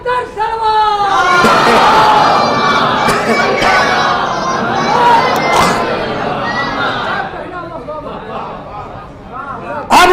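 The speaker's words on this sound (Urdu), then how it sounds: "محمد والا محمد بلند تر سلوات" A large gathering at a majlis in Govandi loudly recites salawat in unison, a swelling chorus of many voices that peaks, then fades into scattered murmurs before a final loud burst.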